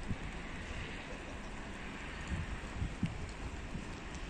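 Steady, even rain falls outdoors on an autumn day in a Russian town, making a broad continuous hiss with a few faint low thumps scattered through it.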